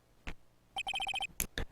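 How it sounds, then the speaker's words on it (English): A repeating electronic phone ringtone from the Phoenix Wright: Justice for All video game, a quick burst of bright synthetic beeps in a steady rhythm, clear and close, framed by a few short isolated tones. "What is it with this stupid sounding ringtone?"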